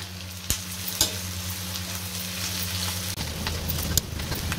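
Onions, garlic, ginger and cashews fry in a pan with a steady close sizzle, a few sharp clinks of a utensil against the pan, and a low hum that drops away partway through; no one speaks.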